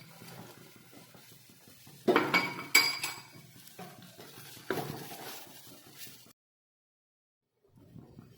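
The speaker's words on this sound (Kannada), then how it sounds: "ಈಗ ಇದ್ರಾಗ ಇವು ಗೋಡಂಬಿನೂ ಹಾಕ್ತೇನ್ರಿ" Cashews tipped into fried onion gravy in a pan for dhaba-style kaju masala, giving a few loud clinks and scrapes of utensils against the pan, then quieter stirring noises, a pause of silence, and faint movement again.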